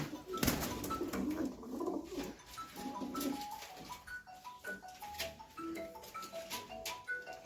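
Several pigeons coo softly in repeated low, rolling calls, overlapping one another, with occasional clicks and faint rustling nearby.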